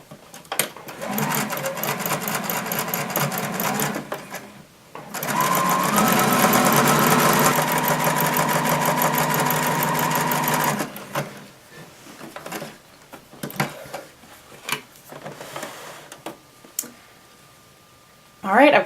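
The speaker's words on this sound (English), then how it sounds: "I'm going to sew from where I stopped on the top of the head all the way down to the bottom of the tail" A sewing machine stitches a stuffed fabric dinosaur from the top of the head down to the tail in two long, steady runs, with short pauses and handling noises between.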